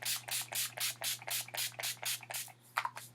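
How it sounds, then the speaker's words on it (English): Urban Decay All Nighter setting spray misted onto a face during makeup, heard as a close series of about ten quick, even pump-spray bursts, each a short hiss, with a steady low hum underneath. "We're just going to set our face real quick. Again, with the Urban Decay the Urban Decay All Nighter Setting Spray"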